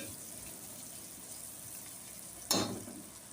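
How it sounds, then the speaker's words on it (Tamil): Onions sauté in a pan, making a faint, even low sizzle, then one sudden louder scrape or splash near the end. "வெங்காயத்தை நல்லா கிண்டி விடுங்க"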